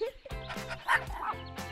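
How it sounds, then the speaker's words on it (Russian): A small dog gives a few quick, high yips and barks up close, mixed with whimpering tones in a toy-play scene, with a voice speaking around them. "Собачка выбежала прямо на дорогу."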